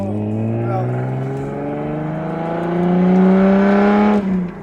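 A tuned car engine revs up, its strong harmonic drone rising steadily in pitch over several seconds before dropping off near the end, loud and close with no talk over it.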